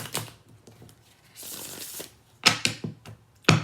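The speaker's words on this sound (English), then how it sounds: "One more shuffle." Tarot cards being shuffled by hand, several quick riffling bursts and a longer soft slide, close and crisp with short gaps between them.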